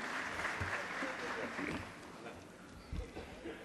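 An audience in an auditorium claps and cheers at a public event, a dense, fairly distant wash of applause that swells and fades slightly across a few seconds.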